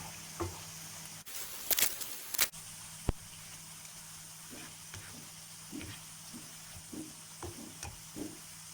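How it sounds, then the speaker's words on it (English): Onion fries in oil on low to medium heat with a soft, continuous sizzle. A few louder clatters and scrapes come early on. "It will take about 15 to 20 minutes to fry the onion on the low to medium heat"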